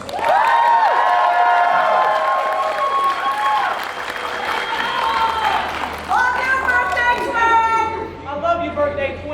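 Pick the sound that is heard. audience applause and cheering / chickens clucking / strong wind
audience applause and cheering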